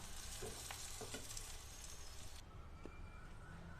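Pumpkin and potato pieces fry in hot oil with a steady, close crackling sizzle, broken by occasional stirring scrapes and a brief shift in tone partway through.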